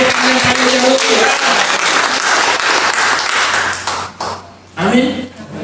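A church congregation gathered for a worship service in an apartment breaks into strong, close applause that holds steady, then drops away sharply near the end as voices and speech take over.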